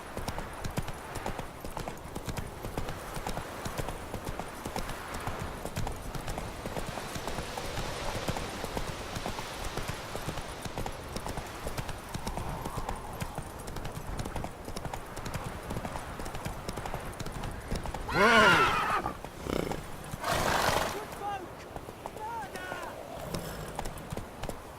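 Roach, a horse in The Witcher 3, gallops with continuous rapid hoof clip-clops, close and steady, while a voice talks over it and a couple of louder bursts break in near the end.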